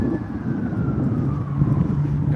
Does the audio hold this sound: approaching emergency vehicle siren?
yes